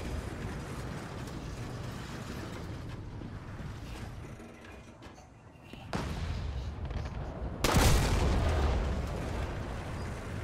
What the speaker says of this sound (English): Someone's shooting out there.